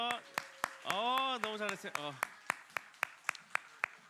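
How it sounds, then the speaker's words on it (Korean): Children in a church service clap together in a string of sharp, evenly spaced claps that follow a short spoken phrase, the claps ringing out clearly and fairly close. "우리 박수 한번 쳐줄까요?"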